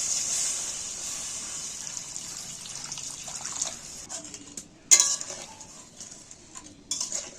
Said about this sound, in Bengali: এইবার আমি পরিমাণ মতো জল দেবো